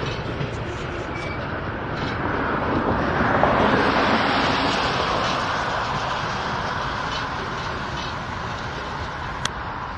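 A freight train rolls past with a broad, steady rumble and rushing noise that swells toward the middle, with wind buffeting the microphone.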